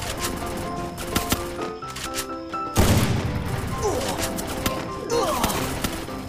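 Gunfire in Free Fire's Craftland first-person mode rings out as sharp bursts amid steady in-game music and effects, with a heavy impact near the middle followed by more scattered shots.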